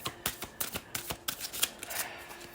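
Tarot cards are shuffled close up in a quick run of soft riffling flutters and slaps, repeating rhythmically with no talk.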